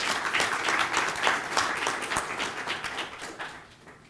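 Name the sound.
audience applause at a conference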